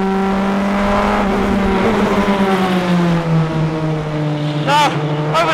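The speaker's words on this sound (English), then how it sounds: "Braking very late into Redgate corner, accelerating hard from behind this cup car." Praga R1T EVO race car accelerating hard on track out of Redgate corner, a loud in-car engine note rising in pitch through the gears, with a brief gear-change burst near the end and no talk over it.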